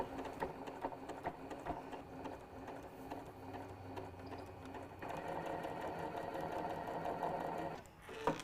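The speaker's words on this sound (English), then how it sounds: "I'm going to go ahead and top stitch down the rest," A sewing machine top stitching a scrappy fabric pouch runs in a steady, fast mechanical whir with a needle patter, rising slightly in speed midway before stopping with a small clunk.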